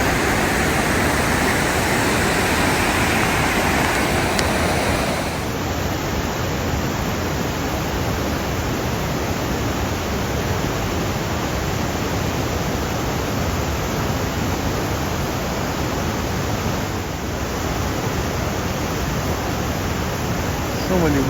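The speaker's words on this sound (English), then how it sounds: "There's some more awesome waterfalls from the rain we had last night" Waterfalls at Milford Sound, swollen after overnight rain, give a steady broadband roar of falling water, loud and continuous throughout, with a brighter hiss in the opening seconds before settling into an even rush.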